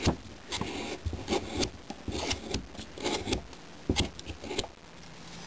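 A knife carving wood into a small chipmunk figure, with repeated close, rhythmic scraping and rasping strokes.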